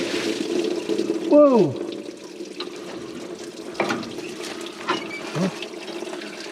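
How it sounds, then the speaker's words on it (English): Antifreeze drains from a Jeep Gladiator radiator with the lower hose pulled off, a steady watery gush and splashing that carries on under a startled voice, with occasional spurts and sloshes. "The antifreeze is drained."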